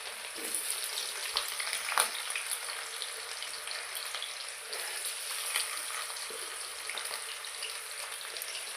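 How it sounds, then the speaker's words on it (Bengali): Whole cumin, dried red chili, bay leaves and onions fry in hot oil in a pan, making a close, steady, continuous sizzle with faint stirring and no talking. "গোটা জিরে শুকনো লঙ্কা আর তেজপাতা দিলাম আর এখানে দিলাম আমি পেঁয়াজ এগুলো একটু হালকা হালকা ভাজা করব"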